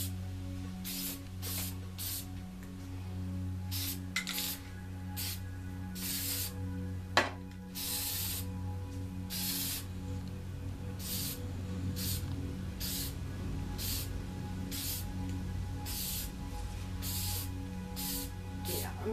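An aerosol can sprays gray paint onto a cement statue in repeated short hissing bursts, close and distinct, over a steady low background hum, with one brief sharp knock partway through.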